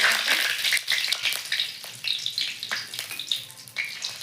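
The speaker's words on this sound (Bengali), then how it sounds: "তেল গরম হয়ে গেছে দিয়ে দিচ্ছি দুটা শুকনো লঙ্কা ফোড়নে" Dried red chillies fry in hot mustard oil, giving a steady bright sizzle that swells and fades in waves, close and fairly loud.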